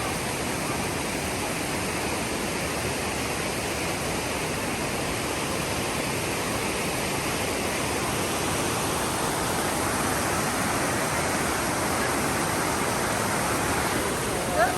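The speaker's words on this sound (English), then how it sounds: "You can really start to hear the power of the gorge, the water flowing through it." Water rushes steadily through Mossman Gorge in the Daintree Rainforest, heard from a suspension bridge as a loud, continuous broadband roar of flowing river that holds even from start to finish.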